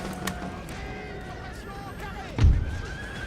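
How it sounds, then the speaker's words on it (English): Horses whinny in a busy Empire: Total War battle soundscape, a loud low thump near the end, with voices talking underneath throughout. "You hear those horses dying."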